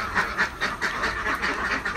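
Ducks in a cage built above a fish pond quack in a rapid, rhythmic series of close, loud calls, steady over the whole stretch with no talking.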